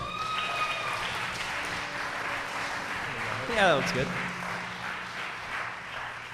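A story slam audience applauds a storyteller taking the stage, a steady wash of clapping that runs under nearby talking.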